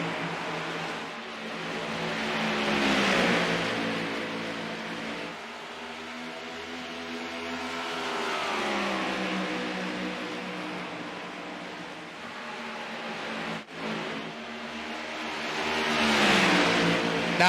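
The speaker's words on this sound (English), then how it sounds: "The 15 car of David Herrera leading his teammate David Lerfano around the track" Race cars roar around the Dover track during the ORR Lawn Care 150, engines swelling and fading as they pass in a sustained, loud drone with several distinct pass-bys.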